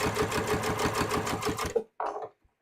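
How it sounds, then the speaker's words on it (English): A sewing machine set to a 3.5 stitch length stitches a cut-on fly in a fast, even run of close mechanical clatter that stops abruptly, followed by a brief handling noise. "I'm just going to stitch down my line."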